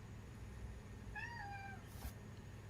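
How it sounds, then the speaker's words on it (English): A cat meows once for attention, a thin rising-and-falling cry that sits faintly over a steady background hiss, with no one talking. "My cat wants attention."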